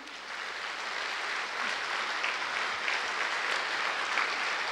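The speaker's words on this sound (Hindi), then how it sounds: "बजाइए तीसरी ताली" Steady, dense applause from a large audience filling Harmony Hall at Gyan Sarovar during a silver jubilee celebration, continuous and even throughout with no talking.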